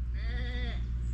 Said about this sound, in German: Oh, die Ziege.